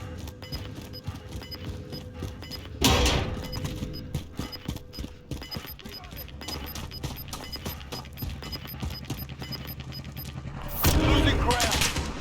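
Gunfire in the video game Call of Duty: Warzone, with rapid bursts and a couple of loud heavy blasts over continuous battle noise and footsteps, while a game voice calls out.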